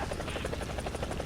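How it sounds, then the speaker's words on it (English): A video game helicopter flies with a rapid, even rotor thump and buzzing drone, loud and steady throughout. "Here's another little helicopter that I'm just trying to shoot down."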